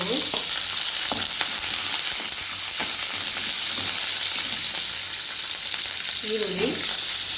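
Green chillies and curry leaves sizzle and crackle steadily in hot oil for paddu, with a dense, continuous frying hiss and occasional stirring clinks and scrapes.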